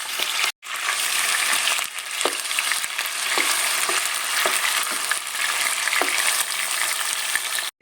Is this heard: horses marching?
no